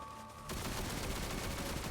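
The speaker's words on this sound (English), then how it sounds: "See them little rockets hitting off" Small rockets from the Hydra enemy in Destiny 2 striking a roof: after a quiet half second, a dense, continuous rattle of rapid impacts and explosions, fairly faint and distant.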